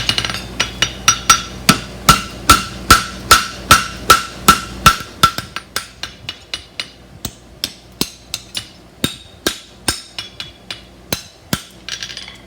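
Steady hammer strikes draw an aluminum horseshoe bar out to a tip on an anvil. Bright metallic ringing blows come in a quick, even rhythm, growing quicker and lighter toward the end, loud and close throughout.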